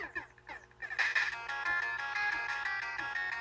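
In Mega Man 2, the Leaf Shield weapon gives a repeating chiptune warble, a bright looping electronic trill that starts after a few quick blips and keeps going steadily.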